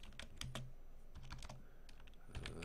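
Computer keyboard typing at a steady pace, close and clear, with rapid key clicks in short runs and brief pauses, no voices.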